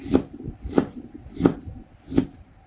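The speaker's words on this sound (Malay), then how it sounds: "Sekarang kita nak hiris." Shallots sliced with a knife on a cutting board, four distinct, evenly spaced chopping thuds, close and crisp, with quiet pauses between each cut.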